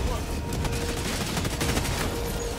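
Continuous heavy gunfire aimed at a dropship in the Helldivers 2 video game, a dense, loud stream of rapid shots and booms with a voice talking briefly over it.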